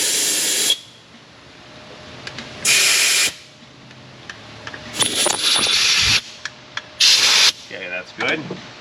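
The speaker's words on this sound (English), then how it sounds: "We'll blow these bolt holes out. Make sure there's no fluid in them, or dirt, or sealant." Compressed air blasts into the bolt holes of a Chrysler Pentastar 3.6 V6 engine with a plastic oil housing: four or five loud, sharp hissing bursts, each about half a second, broken up by quieter shop handling noises.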